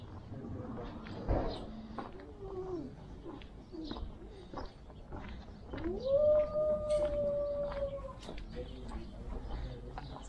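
An old female dog howls in Prieto Norte Square in Temuco, Chile, a single drawn-out wavering howl at mid distance over street ambience and faint voices.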